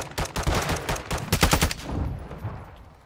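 Rapid automatic gunfire in a Call of Duty multiplayer match, several loud dense bursts of shots close up, trailing into a fainter echoing tail.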